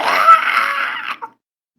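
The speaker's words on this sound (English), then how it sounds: "and then cut off as a goblin scream is ended." A goblin's scream in a tabletop fantasy game, a harsh, strained cry held loud for about a second, then abruptly cut short, followed by silence.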